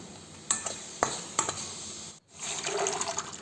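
Cooked black chana water is poured into a pan of chana masala curry: a few sharp clinks, a brief pause, then a sustained liquid splash and sizzle close by.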